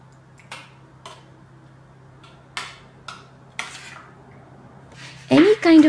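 Cooked barnyard millet is stirred with a whole pomegranate's seeds, yogurt and salt, giving a few sparse clinks of a utensil against a dish and then louder, closer scraping and mixing at the end.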